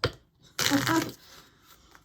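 Tarot cards being shuffled by hand in one brief, close riffle burst, with quiet rustling before and after and no clear speech.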